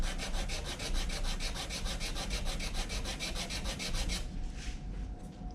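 A wooden body part is sanded by hand to fit, with steady rhythmic rasping strokes about five per second, loud and close, ending in a slower scrape.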